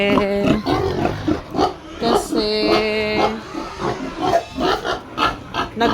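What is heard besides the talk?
boar pig grunting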